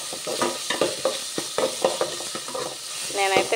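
Coriander fried in a pan for a tomato rice lunch-box dish, stirred with sharp rhythmic scrapes of a spatula over a continuous close sizzle.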